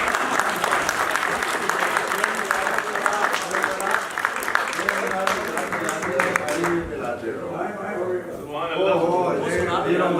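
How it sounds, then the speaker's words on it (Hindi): Audience at a poetry recital gathering breaks into sustained, dense applause lasting several seconds, loud and continuous, fading near the end as a voice starts speaking over it. "आप तालियां बजा के"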